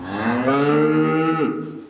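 A cow on a Ukrainian dairy farm gives a single loud, close moo that holds steady for almost two seconds, then bends downward at the end.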